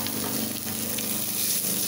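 Flattened rice poha sautéing in ghee in a pan gives off a soft, steady sizzle with faint stirring scrapes, quiet and close with no voices.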